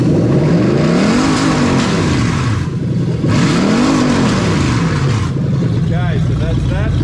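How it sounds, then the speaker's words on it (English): Toyota 1UZ-FE VVT-i V8 engine with a manual setup revving up twice in rising and falling sweeps, then settling to a rough idle, loud and close. "Now we're going to give it a bit of a rev."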